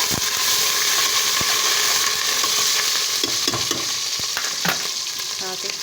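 Chicken feet fry in a pan with garlic, ginger and cumin, giving a dense continuous sizzle and hiss broken by scattered clicks and scrapes from stirring, fairly loud and close with no talking.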